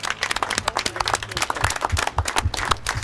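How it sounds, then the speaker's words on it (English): A theatre audience claps after the flags of Cyprus and Europe are raised, with dense, lively applause from a crowd throughout. "Everybody applause."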